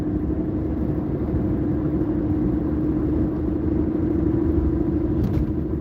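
Steady low road rumble and tire hum from a car cruising at night on Illinois Route 47, a constant drone with an even level throughout and no talking.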